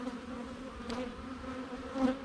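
Bees buzz around an open hive during an inspection, a steady low drone with a brief swell near the end, close and continuous without talk.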